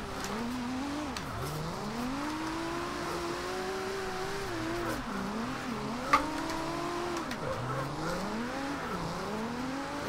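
A Nissan 370Z drifting in Forza Horizon 2, its engine revving up and down in repeated sweeping surges with tires spinning and a continuous tire hiss, steady and loud throughout with no talking.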